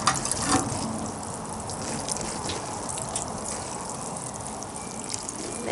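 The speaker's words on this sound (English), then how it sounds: "Okay, and now I'll just water that in." Freshly planted anemone corms in compost are watered in, a steady close splashing and trickling of water onto soil that runs continuously throughout, with no talking.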